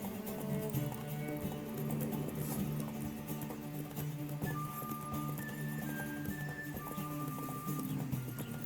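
Rhythmic hoofbeats of a galloping horse in The Witcher 3: Wild Hunt over a steady backdrop of game music, with brief tonal chimes partway through.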